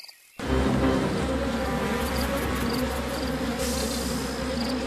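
Bees buzz in a dense, steady drone from the Bee Movie video game, starting abruptly after a brief quiet moment and then holding loud and continuous with no talking.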